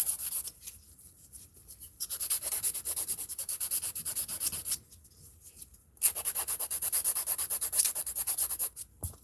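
A nail file scrapes down an acrylic nail on a practice hand in long, steady bursts of close, gritty rasping, with short pauses between strokes.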